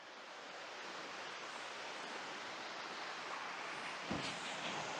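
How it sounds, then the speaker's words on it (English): A river flows past a walking path in Jamaica, a broad, steady rushing of water that stays even and fairly close for the whole stretch, with no voices. "the river continues to flow"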